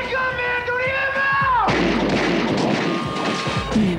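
Gunfire in a TV drama trailer erupts as a loud, sustained burst of crashing blasts that cut off a held tone, filling the rest of the moment with dense, booming noise.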